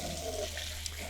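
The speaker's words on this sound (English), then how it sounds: "We can now fill up our buckets" Water running from a tap into buckets being filled for washing a Nissan R35 GT-R, a faint steady splashing flow heard briefly on its own.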